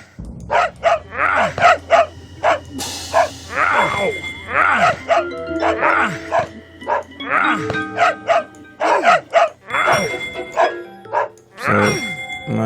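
A dog in the video game Agharta: Hollow Earth barks and yelps repeatedly in quick bursts, loud and close, over a low game backdrop with a continuous hum.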